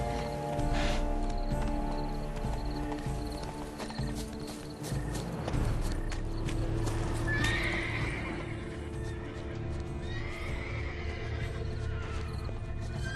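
A horse in The Witcher 3: Blood and Wine whinnies and snorts while its hooves clip-clop steadily, close and clear over a soft game background.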